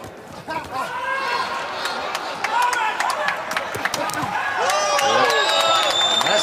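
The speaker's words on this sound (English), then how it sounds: "That's got the crowd into it." A boxing arena crowd at a men's world championship in Doha cheers and roars steadily, swelling toward the end, with commentators talking over the noise.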